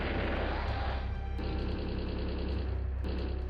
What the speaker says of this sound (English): Getting some great hits with those artillery.